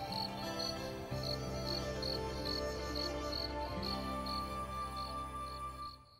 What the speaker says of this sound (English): In that hole is a brown cricket, humming